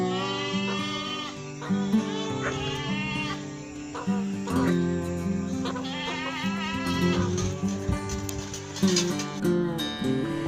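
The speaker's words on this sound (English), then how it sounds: "This is goat." A goat bleats in a series of wavering, nasal cries over a steady musical backing, fairly close and clear throughout.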